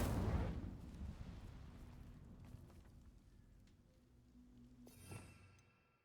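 A fire spell cast in the video game Hogwarts Legacy, a loud burst with deep rumbling at the start that fades into a crackling hiss, then a short whooshing flare near the end before it dies away.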